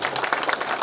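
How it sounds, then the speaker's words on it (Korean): A lecture audience briefly applauds a lecturer, with quick, overlapping claps from several people, fairly close and without speech. "김정길 박사님께 다시 한번 뜨거운 박수를 부탁드립니다"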